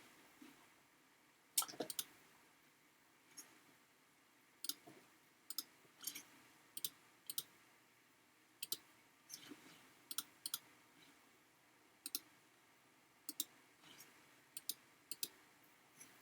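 Computer mouse clicks while working in SketchUp, faint, crisp and sharp, heard singly and in quick double and triple bursts spread irregularly over a quiet room background.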